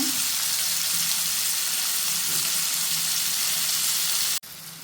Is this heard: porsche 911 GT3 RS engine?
no